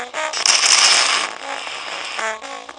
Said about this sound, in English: Before they take off, there's an explosion.